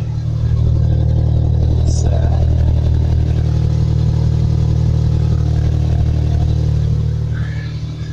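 A modified Toyota Corolla idles steadily with an aftermarket Magnaflow cat-back exhaust and twin back boxes, giving a loud, constant low rumble close by with faint clatter and no revving.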